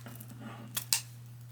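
Scissors snip through a roll of decorative mesh during Valentine's wreath making, two quick close cuts standing out over a quiet room with a steady low hum.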